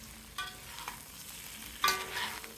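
Small fish frying in a pan and being stirred, a steady close sizzle with a few scraping stirs, one louder stir near the end, no talk.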